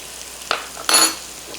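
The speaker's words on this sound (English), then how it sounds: "I'm going to kind of mix that around so I can coat the bacon and onions nicely here." Flour is stirred into bacon and onions frying in a pan, two quick scraping swishes over a soft continuous sizzle, close and brief.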